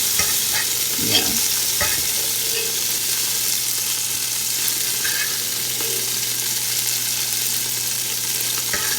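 Salmon fillets for a creamy garlic Tuscan dish frying in a pan, a dense continuous hiss of sizzling oil that stays loud and even throughout, with a few faint scrapes early on and no voices.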